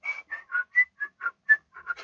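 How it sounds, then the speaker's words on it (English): A recording of whistling plays: a quick run of about ten clear, bright warbled notes in an even rhythm, close and solo with no voices. "Nobody can whistle like him."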